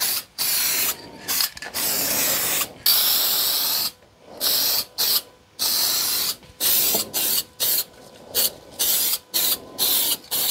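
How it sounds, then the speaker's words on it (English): Matte black paint hisses from an aerosol spray can in repeated bursts of one to two seconds, separated by short silent pauses, close and loud, with no talking. "I'll put my mask on and give it a spray."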